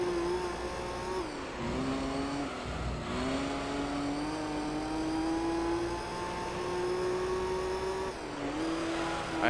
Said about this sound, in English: I have a Supra catching up behind me.